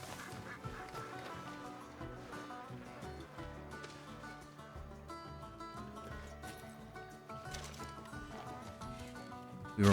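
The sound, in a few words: Pekin duck quacking in video game Red Dead Redemption 2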